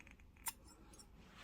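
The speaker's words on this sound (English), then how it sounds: "now you can cut your yarn off" A single quick snip of scissors cutting crochet yarn at the end of a bonnet hat, one short sharp click over quiet room tone, close and alone.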